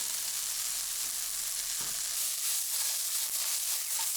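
Carrots and celery fry in a scorching hot pan for chow mein, a loud, steady sizzle with a few soft stirring scrapes throughout.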